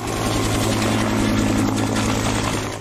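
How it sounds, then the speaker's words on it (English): A helicopter drones close by with a dense, low rotor thump and engine roar that stays steady and loud throughout, with no voices. "Helicopter."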